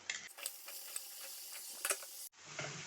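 Chopped colocasia tipped into a pan of softened onions sets off a steady, close sizzle of frying, with a burst of stirring and scraping near the end before the hiss settles again.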